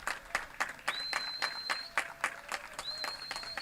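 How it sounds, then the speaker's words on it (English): A college baseball crowd at the Silver Diamond Baseball Complex keeps a slow, rhythmic clap of sharp, evenly spaced beats about twice per second, with a thin whistle-like tone sounding twice in the background. "Slow clap begins at the Silver Diamond Baseball Complex."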